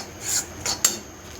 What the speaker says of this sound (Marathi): हे सतत हलवत राहायचं, जेणेकरून खाली करपणार नाही,